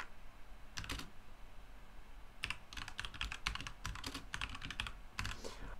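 Code being typed on a computer keyboard: bursts of quick key clicks in uneven clusters, a short run, a pause, then denser rapid typing, close and clear with no talking.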